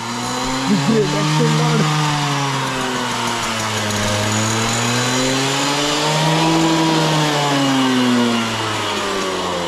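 An old motorbike, a grandfather's machine, revs continuously nearby, its engine pitch rising and falling in smooth waves, loud and steady throughout with a voice briefly audible early on.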